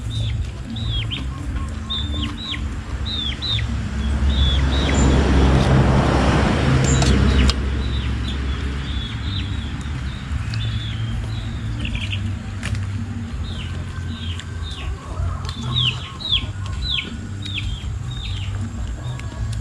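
Chickens around a rural Thai home kitchen give repeated short, high chirping calls in scattered bursts throughout, while a vehicle rumbles past midway.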